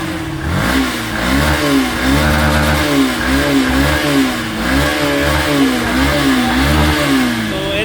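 A Yamaha FZS version 3 motorcycle with a faulty fuel pump is revved repeatedly, its engine note rising and falling in a regular cycle of about eight swells, loud and close with no voices.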